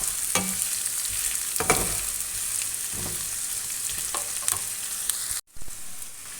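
Chopped onion and garlic fry in oil in a pan, a steady close sizzle broken by occasional stirring scrapes and sharper crackles, with no talking, ending in a brief cut.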